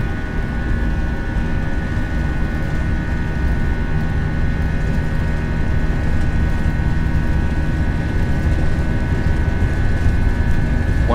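Jet airliner engines at takeoff thrust during the departure roll from Miami, a steady loud broadband roar with a constant tonal whine, sustained and unbroken throughout.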